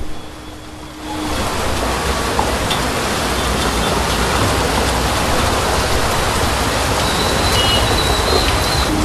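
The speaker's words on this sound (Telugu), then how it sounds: "ఒక్కసారిగా వచ్చిన భారీ వర్షం వణికిస్తోంది" A steady, dense wash of heavy rain in Hyderabad hisses continuously after a quieter first second, broad and unbroken, with no voices.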